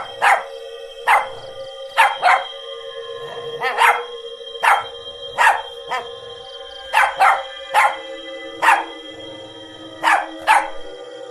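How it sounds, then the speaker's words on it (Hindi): A dog barks repeatedly in a spooky horror-story setting, sharp loud barks in an irregular rhythm of single and double yelps over a faint steady drone. "अरे मैंने तो कोई कुत्ते की आवाज नहीं निकाली, तो ये आवाज कैसी है?"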